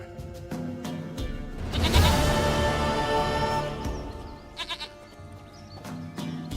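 Goat bleating in The Witcher 3, with several wavering bleats standing out clearly over a busy game background and music.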